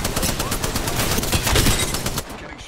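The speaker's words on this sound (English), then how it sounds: "I am taking fire, friend." Dense, rapid gunfire in the shooter game Apex Legends, close and loud, a continuous fusillade of shots that runs through most of the moment before easing off at the end, with a voice speaking briefly under it.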